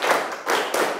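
A classroom of school students doing a rhythmic 'tepuk 5' group clap, three bright, dense bursts of many hands clapping together in quick succession, fairly loud and close, with no voices.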